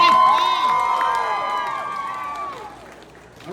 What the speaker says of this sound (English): Can we give them one more big round of applause, ladies and gentlemen?